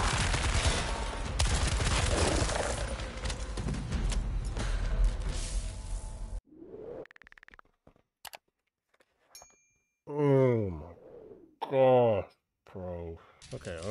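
Rapid, loud gunfire from a weak gun in the video game Daymare: Sandcastle fills the first six seconds. Sparse clicks and a voice follow.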